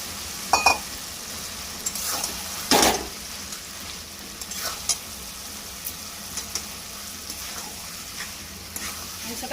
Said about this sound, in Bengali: মাংসটাকে ভালোভাবে নাড়াতে হবে যাতে মাংসর গায়ে মশলাটা ভালোভাবে লেগে যায়